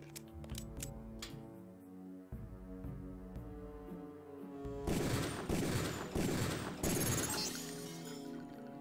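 Pistol gunfire in the 2000 video game Deus Ex: sharp separate shots early on, then a dense burst of rapid shots with shattering and breaking noises mixed in.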